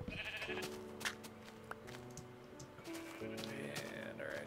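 Sheep in Minecraft bleat several times, short wavering calls rising over a steady layer of in-game tones, with quiet speech at times.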